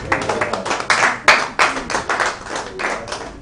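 An audience at a live-streamed stage event bursts into applause for a performer, a dense, steady patter of many hands clapping close by for several seconds, with no talking over it.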